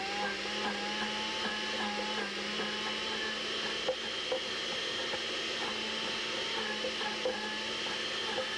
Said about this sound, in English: You're going to want to blend until you have a thick paste.